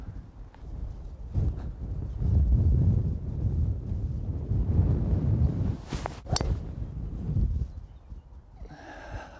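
Wind gusts across a golf course, a steady blustery rumble buffeting the microphone, rising and falling throughout with a few brief sharp knocks near the end.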